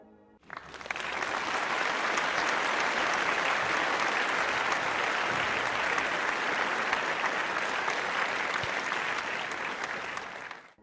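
An audience at an academic event breaks into sustained applause. The clapping starts abruptly, holds steady and dense for about ten seconds, and fades at the end.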